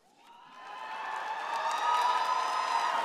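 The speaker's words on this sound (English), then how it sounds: "That's a nice loud cheer." Graduating candidates at a UWM fall 2022 commencement ceremony break into a loud cheer of many voices, swelling quickly from quiet and holding strong for about three seconds.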